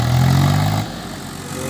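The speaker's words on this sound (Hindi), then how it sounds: "तो उसको आप देख रहे हो किस तरह ट्रैक्टर जा रहा है बड़ा संघर्ष के साथ" A stuck tractor's engine labours loudly with a low droning rumble for under a second, then drops to a quieter, steady running note as it strains to pull free.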